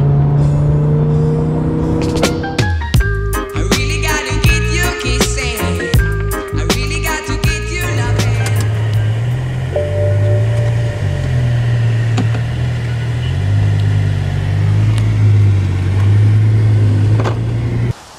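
A BMW M3 station wagon with an S54 inline-six revs and idles, its low engine drone rising and falling around sharp clicking and clattering sounds, heard fairly close and loud.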